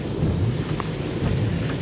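Heavy downpour drums steadily on a car during a thunderstorm on a drive through Finland, with a low continuous rumble of thunder and dense rain noise filling the cabin throughout, with no talking.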